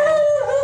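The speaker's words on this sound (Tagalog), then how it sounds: "may nagalit na aso" A single angry dog gives a drawn-out, wavering howl-like bark outdoors near a rooftop, loud and close, lasting under a second with no talk over it.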